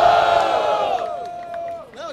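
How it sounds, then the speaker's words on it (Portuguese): A loud crowd at a rap battle roars and cheers together, a dense wall of shouting voices that fades slightly before rising again with scattered yells. "Barulho só pra quem achou que foi PQ."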